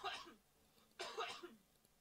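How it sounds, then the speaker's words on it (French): Two separate coughs about a second apart, fairly faint and close, from a person in a quiet room during a live Minecraft play session. "On t'entend tousser"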